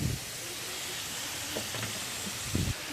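Taro stalks frying in a pan with a hilsa fish head make a faint, even sizzle and hiss, broken by a few soft stirring knocks near the start and end.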